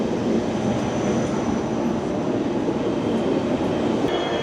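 An ICE 2 high-speed train at a station platform on the line to Westerland on Sylt gives a steady, loud rumble with a broad rushing roar that holds evenly throughout, with no voices.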